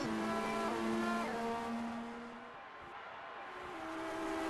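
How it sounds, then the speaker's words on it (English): Formula-style race cars in a video game race at the Chinese Grand Prix: a high engine whine shifts pitch as cars pass, dips quieter midway, then builds again, fairly faint and without commentary over it. "here comes Washer to Williams to the inside into the braking zone, and Washer is through"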